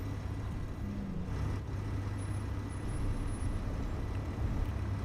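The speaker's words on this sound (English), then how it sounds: "My apologies if you can hear that funny squeaking noise. I appear to have a neighbor parking his car." A neighbor's car squeaks faintly while parking, a thin high squeal sitting over a steady, low rumbling engine and road hum throughout.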